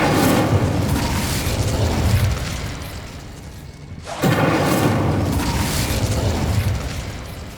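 A roaring blast from the Incendio fire spell in the video game Hogwarts Legacy. A loud, sustained burst of fire dies down briefly, then erupts again at full strength.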